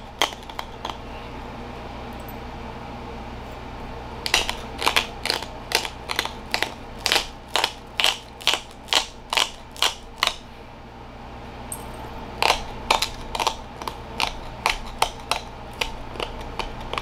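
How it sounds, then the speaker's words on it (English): Obsidian Clovis point being ground into shape during flintknapping, a run of short, evenly spaced abrasive strokes near and loud over a low steady hum, pausing briefly before another quick series of strokes. "we'll just keep grinding this thing down to the shape that I want it"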